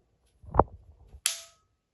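Pruning shears snap shut twice after the pivot nut is tightened: a short sharp click followed by a brighter metallic snap with a brief ringing tail, close and isolated.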